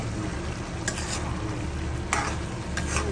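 Liver adobo with boiled egg being stirred in a frying pan, a steady sizzle underneath and a few brief scraping strokes of the utensil against the pan.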